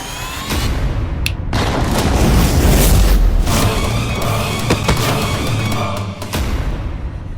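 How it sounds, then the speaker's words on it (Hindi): A big magical explosion sound effect from a TV serial roars loud with rumbling booms and cracking bursts that fade out, with no talking over it. "धमाका तो इतना बड़ा हुआ पर हुआ कुछ नहीं।"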